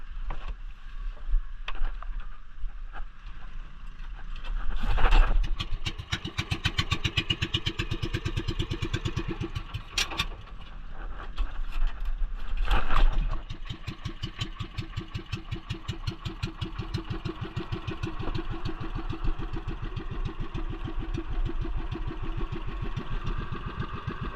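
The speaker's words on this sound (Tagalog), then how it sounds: "paandarin na natin yung makina" A fishing boat engine cranks and sputters, then catches and settles into a steady, loud rhythmic putter that runs on continuously.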